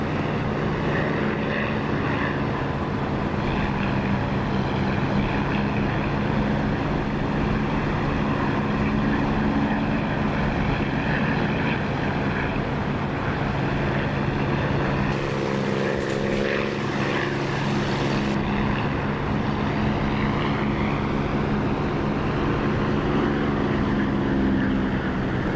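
Harrier jet engine in the DCS flight simulator, a loud continuous turbine roar and whine holding steady throughout, close and dense.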